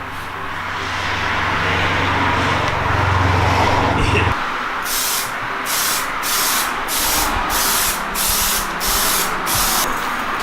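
Clear coat is sprayed onto a Honda Integra front lip. A steady low hum runs at first, then about eight short hissing spray bursts follow in an even rhythm, close and fairly loud.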